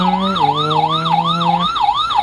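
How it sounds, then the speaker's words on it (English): Wailing ambulance siren from a toy rescue vehicle, a smooth rising-and-falling electronic tone repeating about every half second, loud and steady over a low buzzing hum that drops out partway through, with no talking. "that sounds like an ambulance."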